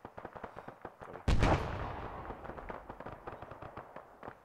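A fragmentation grenade detonates in a tactical military game, a sharp loud blast with a long rumbling decay, set among quieter rapid background gunfire.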